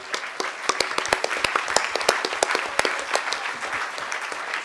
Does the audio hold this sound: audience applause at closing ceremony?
yes